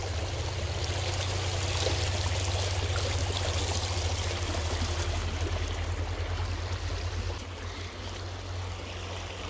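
A river runs beneath a bridge in Joyabaj, Quiché, giving a constant rushing, gurgling flow with a low rumble underneath, steady throughout and a little softer near the end.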